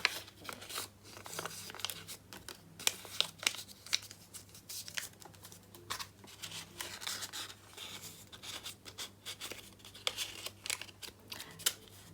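Banknotes going into a small paper envelope, with close, continuous crinkling, rustling and rubbing of paper in quick irregular bursts, no talking.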